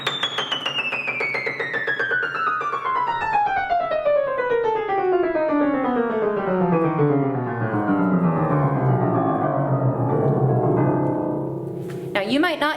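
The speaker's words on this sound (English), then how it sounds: "a chromatic scale means you're hitting every note," A piano plays a chromatic scale, every half step in an even run descending from the high register down to the low bass, sustained and fairly loud throughout, with a brief higher flourish at the very end.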